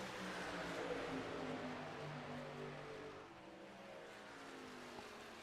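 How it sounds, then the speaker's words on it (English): Race car engines in the iRacing sim at Daytona drone steadily as a pack, a continuous layered roar with shifting pitches, fairly faint and distant, no voices. "if you can listen to the engines very closely"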